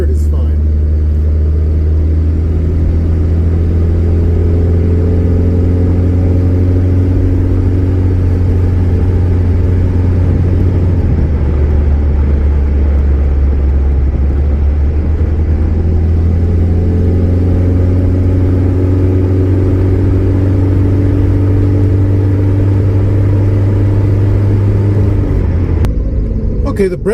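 A rescued K car's engine drones steadily while it drives, rising in pitch as it pulls through the gears, with a rough first-to-second shift and a smoother change into third. It rumbles loud and close throughout, with a brief drop around the shifts.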